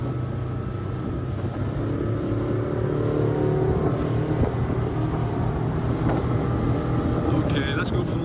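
A 2021 Zodiac Open 6.5 RIB's Mercury 150HP outboard drones steadily at cruising speed through turns around 20 knots, with rushing wind and water noise mixed in, continuous and close.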